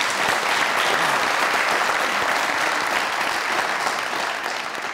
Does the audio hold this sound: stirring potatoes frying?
no